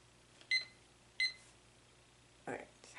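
Small electronic timer giving two short, bright beeps about half a second apart, faint against a quiet room, followed by a brief soft noise.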